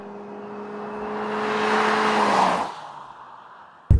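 A 2013 Ford C-Max Energi plug-in hybrid accelerates hard at full throttle, a rising whirring engine and motor drone building steadily over about two seconds, then dropping off abruptly as the load eases, with a sharp knock at the very end.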